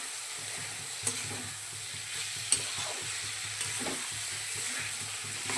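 Carrots, potatoes, cashews, raisins and peas being stirred in a frying pan, a steady low sizzle with occasional scraping knocks of the spoon against the pan, close and fairly quiet, no talking.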